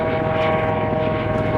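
A helicopter flying overhead, a loud steady rotor and engine drone with a sustained whine, continuous throughout and close.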